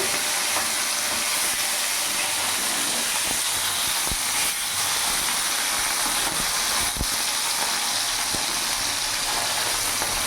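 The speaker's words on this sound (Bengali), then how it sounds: "মাছগুলো ভাজা হয়ে গেছে আমি এবার নামিয়ে ফেলবো" Bata fish frying in oil produces a constant, dense hiss that stays loud and even throughout, with a few faint clicks of utensils over the sizzle.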